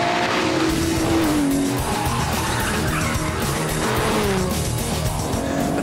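An Aston Martin DBS on a circuit with tires squealing as power kicks out, long wavering screeches over a loud, steady engine roar.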